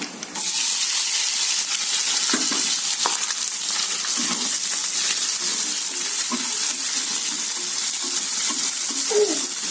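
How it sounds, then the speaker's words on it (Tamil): Onions frying with dried red chillies in hot oil for a chicken dish, a loud, continuous close-up hiss and crackle with a few soft clicks of the stirring spoon scattered through it. "வரமிளகாவும் வெங்காயம் இப்போ வெங்காயம் போடுறேங்க"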